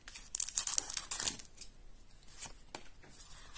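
A Pokémon booster pack wrapper is ripped open, close and crisp, with several quick crackling tears in the first second and a half followed by softer crinkling of the foil, with no voices.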